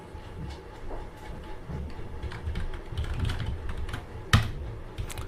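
Computer keyboard typing while working in an Excel spreadsheet, a steady run of soft close key clicks capped by one sharper, louder keystroke as Enter is pressed near the end.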